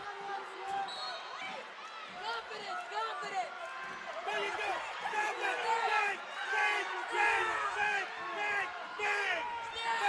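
Crowd at a girls' high school state wrestling tournament, with one wrestler's cheering section close by yelling and cheering in continuous waves through the whole stretch, along with talk.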